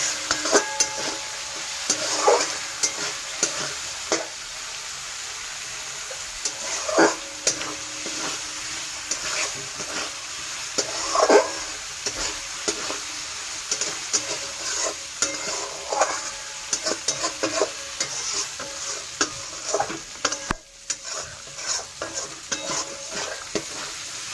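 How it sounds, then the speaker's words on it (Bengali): Food being stirred and sautéed in oil in a pan over a lowered gas flame, a steady sizzle running throughout with repeated scraping strokes of a spatula against the pan every few seconds. "এবার একটু গ্যাস কমিয়ে আমি এটা কষাবো।"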